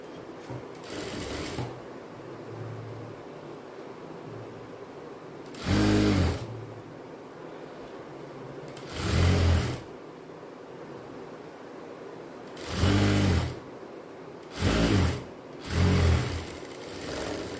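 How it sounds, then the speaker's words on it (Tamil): A sewing machine runs top stitching on a child's silk skirt in short, loud bursts of rapid needle clatter, four or five runs of a couple of seconds each separated by quiet pauses. "இப்போ கீழே வந்து ஒரு மேல் தையல் போட்டுக்கலாம்."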